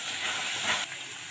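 Whole chillies hit hot oil in a pan while cooking Tangra fish, giving a steady, close hissing sizzle that holds level and then drops slightly near the end.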